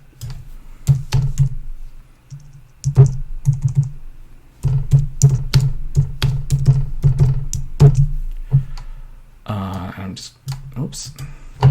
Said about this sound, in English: you're gonna have to type in 1/2 inch.